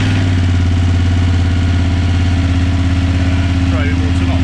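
A 2021 BMW 850 GS Rallye motorcycle engine idles steadily just after starting, with a close, loud, even low throb and a faint voice in the background.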